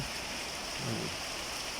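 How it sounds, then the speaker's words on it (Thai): Rain falls steadily outdoors, a soft broadband patter with a faint low rumble partway through. "ก็อยู่ตั้งนานก็ไม่ตกเนาะเวลามานั่งรีวิวแล้วตกเฉยเลยฝนนี่"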